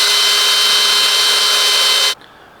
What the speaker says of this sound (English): I'm just gonna drill a hole in the bait and slide that in here.